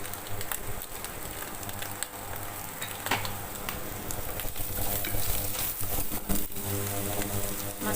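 Kway teow noodles with fish cake stir-fried in a wok, Singapore style: steady, close sizzling and frying with scraping stirring strokes and occasional clinks, continuous throughout with no talking.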